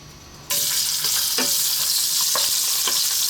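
Ginger slices dropped into hot oil in a pan for Chinese fried fish burst into a loud, steady sizzle after a brief quiet start, with a few stirring clicks underneath.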